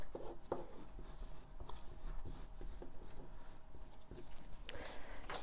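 A pen draws lines on paper while decorating a salt dough Easter egg, giving faint, close scratching strokes in short irregular bursts over a quiet room.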